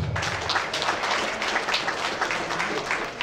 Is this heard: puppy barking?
no